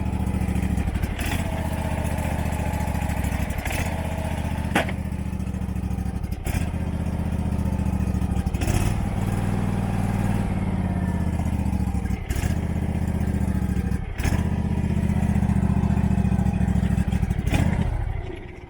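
A Husqvarna motorcycle engine idles steadily with the choke on, a continuous low mechanical drone with faint clatter and periodic sharp ticks, close and loud throughout with no talking.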